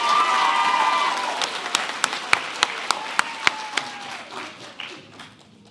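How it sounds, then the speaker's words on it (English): Applause at a school arts and culture awards assembly breaks out and quickly dwindles into a handful of sharp, isolated claps before fading out. "Give them another big round of applause."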